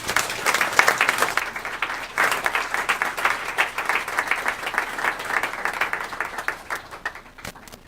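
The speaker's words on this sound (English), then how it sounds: "and give them a round of applause." An audience at a remembrance and reconciliation conversation gives a round of applause, many hands clapping in a crisp, dense patter that stays strong for several seconds before thinning and tapering off near the end.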